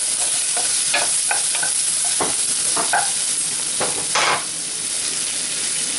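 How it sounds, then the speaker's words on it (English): Potatoes frying in hot oil with cumin seeds and curry leaves, a loud, close, continuous sizzle with intermittent stirring scrapes and crackles, no voices. "Now add the potato."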